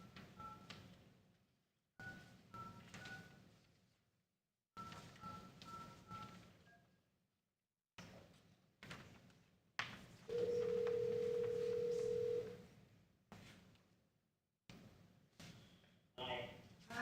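Telephone call placed from a city council meeting room to reach the attorney: several long steady ringback tones repeat with pauses between them, and one longer tone sits under quiet room murmur and scattered voices.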